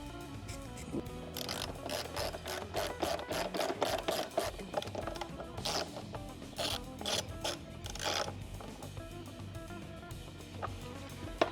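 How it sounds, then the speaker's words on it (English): Metal bolts being turned and ratcheted into the battery box of a 1995 Honda XR250L motorcycle, a busy run of close clicking and scraping mechanical sounds with no talk. "So we're going to put our two bolts back in here. There's two 10mm bolts."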